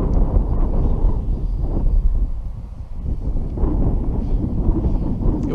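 Strong wind buffeting around a Simple Scout model sailboat out on the water, a loud, constant low rumbling roar that swells and dips across the whole stretch.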